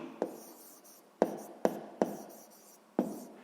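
Pen or pencil strokes on paper while solving a sixth-grade math exercise by hand: five sharp taps and scratches, spaced unevenly, close and fairly quiet, with no voice.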